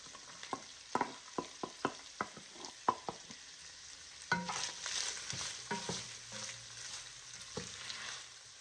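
Peppers, carrots, onions and celery being stirred and sautéed in a pot for Italian sausage tortellini soup, a series of sharp spoon scrapes and clinks against the pot followed by a soft sizzle, close and quiet with no talking.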